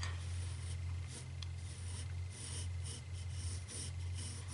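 A pencil drawing lightly on paper, a soft continuous close-up scratch with gentle strokes under a low steady hum.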